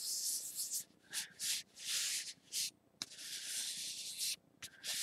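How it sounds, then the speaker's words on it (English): A hand rubs over paper laid on an embossed design to lift its impression for a paper craft, making repeated dry, scratchy strokes up close, broken by short pauses. "keep one hand on it while you rub."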